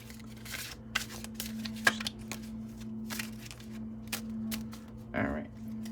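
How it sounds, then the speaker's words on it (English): Tarot cards are shuffled quickly by hand, producing a quiet run of soft riffling and flicking clicks over a low steady hum in an indoor room. "I'm gonna do a little quick shuffle here."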